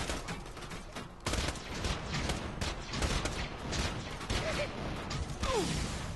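Rapid gunfire and explosions rattle through a Borderlands 2 shooter battle, dense and continuous with sharper bursts, while a voice talks over the action.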